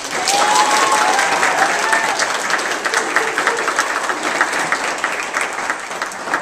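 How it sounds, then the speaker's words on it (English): A large high school crowd at Valley High School gives sustained applause, a dense even roar of many hands clapping continuously, with faint cheers and a voice briefly over it early on. "Give your school a round of applause"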